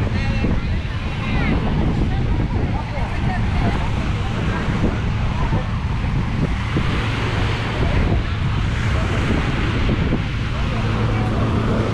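Sea waves wash and wind roars continuously at Playa Mahekal beach in Playa del Carmen, Caribbean water with sargassum on the sand, loud broadband surf with gusting wind noise across the microphone throughout.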